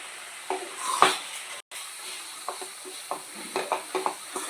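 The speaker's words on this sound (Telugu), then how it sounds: "పాకంలో ఇలా కలుపుకోండి." A spoon stirs boondi into sugar syrup for motichoor laddu, giving soft, sticky scrapes and light knocks against the pan in an irregular rhythm, close and quiet.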